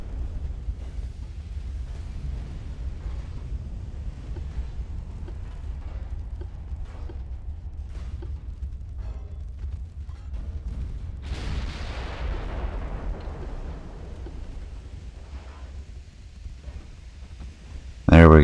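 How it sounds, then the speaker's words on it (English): A warship's ammunition detonates in the naval combat game Ultimate Admiral: Dreadnoughts, a sudden broadband blast around the middle that rolls off slowly over a constant low battle rumble, followed by another sharp burst at the very end. "Ammo detonation"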